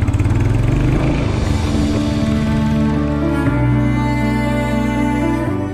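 A Royal Enfield Hunter 350 motorcycle engine pulls away in first gear, a loud, steady single-cylinder drone close to the microphone that shifts pitch partway through as it moves off.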